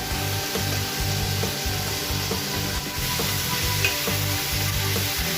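Chicken and tomato sautéing in a pan for chicken sinigang, a steady close sizzle with periodic stirring scrapes in a repeating rhythm, no voices.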